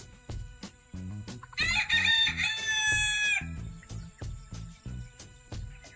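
A rooster crows loudly among free-range Lohmann Brown chickens, one long ringing cock-a-doodle-doo heard over a steady pattern of regular low thumps, with hens clucking faintly around it.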